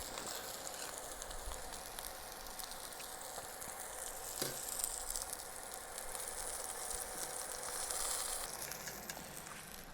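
Food searing in a pan on the stove during a quick fat-loss dinner cook, a steady close hiss and crackle that runs unbroken for the whole stretch with no talking.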